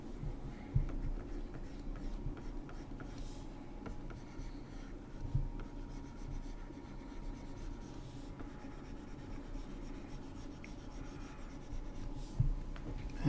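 A pencil drawing medieval armour on paper, a steady soft scratching and rubbing of graphite with small taps, close and quiet throughout.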